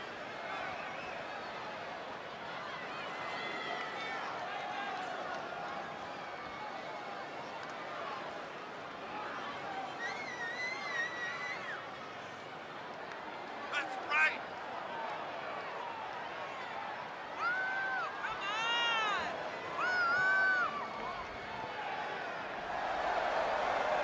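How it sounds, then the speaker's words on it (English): Arena crowd in the WWE 2K20 wrestling game, a steady dense roar of cheering with scattered whistles and swells that runs the whole time. "it sounds to me like the crowd is more than ready for this one"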